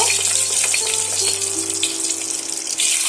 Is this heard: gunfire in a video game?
no